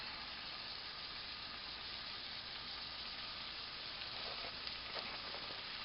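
Ground beef patty sizzling steadily in a hot pan while being broken apart, a continuous close hiss with a few brief crackling pops near the end.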